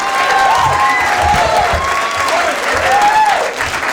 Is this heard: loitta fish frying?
no